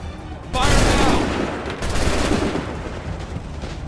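A musket volley in Assassin's Creed III: a sudden crackling burst of many shots fired together, followed by a second ragged wave of gunfire and echoing rumble, with shouted commands mixed in.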